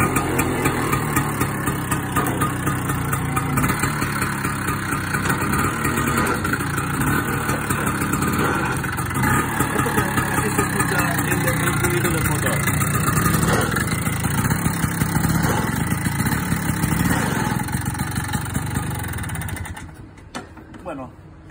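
Vespa PX 200 scooter with a clutch problem, started and left idling, its engine putting out a steady, loud mid-pitched putter with light chirps in the background before it cuts off near the end.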